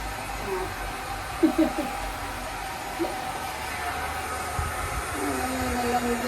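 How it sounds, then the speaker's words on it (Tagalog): A hair dryer blows on a dog with a continuous steady whoosh, with a few brief soft sounds and faint voices underneath. "Blower na, blower time."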